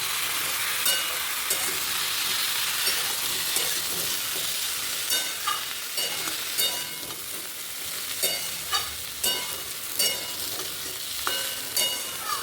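Mixed vegetables sizzle steadily in a hot pan while a spatula stirs them, adding repeated scraping strokes at a regular rhythm over the constant frying hiss.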